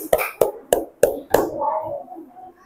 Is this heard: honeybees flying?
no